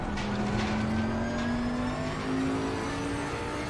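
A Bentley GT3 race car engine howls at steady high revs at Monza in Assetto Corsa Competizione, one loud sustained drone with a slowly rising pitch, while a second Bentley runs close ahead through Lesmo 2.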